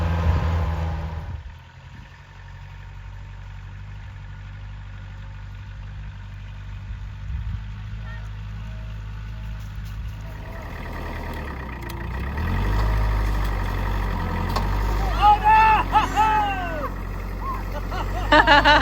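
A farm tractor engine idles and runs steadily with a low rumbling drone in a snowy outdoor setting, growing louder partway through, while children's voices and chatter come and go over it.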